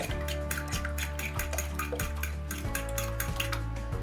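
A whisk beats egg, half-and-half cream and vanilla extract in a bowl for French toast, clinking against the sides in a steady, quick rhythm, close and alone over a low background hum.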